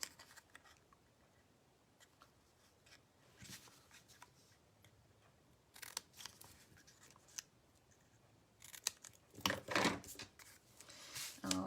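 Scissors snipping heat-embossed cardstock, faint close cuts and paper rustles scattered through quiet handling, with a cluster of sharper snips near the end.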